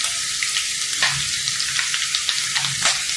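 Ginger garlic paste fries in hot oil for a mutton karahi, giving a continuous loud sizzle with soft stirring scrapes and spits, close by and with no talking.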